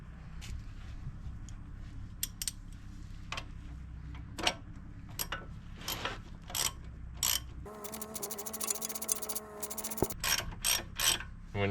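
Wheel bolts are threaded by hand into the hub of a 2006 Volvo XC70 during a hub bearing replacement, giving soft scattered metallic clicks and a brief stretch of ratcheting, quiet, with no talk.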